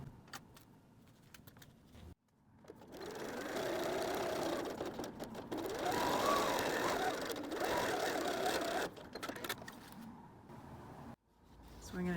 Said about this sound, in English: we're going to sew across the top edge right across there